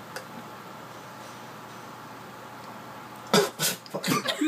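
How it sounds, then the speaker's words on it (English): After a stretch of quiet room hiss, a person swallowing pills coughs a few times near the end in short, close, sharp bursts. "Why do you cough every time?"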